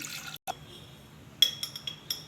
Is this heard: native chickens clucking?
no